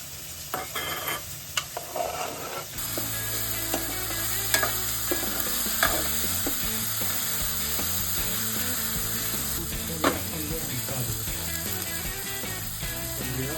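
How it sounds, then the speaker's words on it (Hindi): Oil sizzles loudly and continuously in a pan as spices are tempered for khichdi, with a few sharp clinks and scrapes of utensils near the start. "लग गया तड़का खिचड़ी का। ये बहुत शानदार तड़का लगा।"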